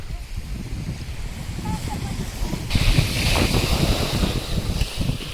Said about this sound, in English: There's nothing like the sound of the sea.